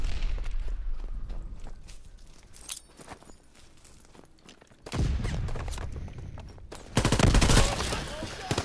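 Rapid bursts of automatic gunfire from a Call of Duty match played on PS4, loud and dense, with heavier, louder volleys in the last few seconds.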